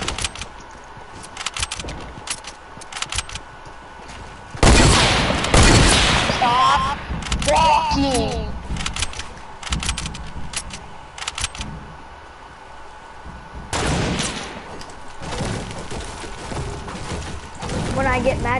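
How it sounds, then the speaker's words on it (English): Rapid video game gunfire bursts in a clan tryout match, loud clustered shots with a heavy boom midway, under excited player talk. "The shots are going right through."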